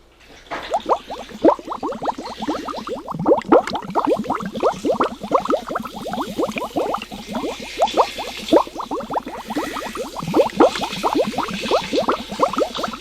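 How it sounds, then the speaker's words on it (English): Spring water pours steadily into a soup pot for fish head soup, a continuous close gurgling splash with dense rhythmic bubbling running the whole time, fairly loud and alone. "We're going to have to add this spring water."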